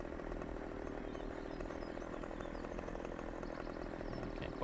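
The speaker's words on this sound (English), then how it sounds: "Maybe I can get with a chainsaw." A chainsaw in a video game runs continuously with a steady, buzzing engine drone, loud and close throughout, with no talk.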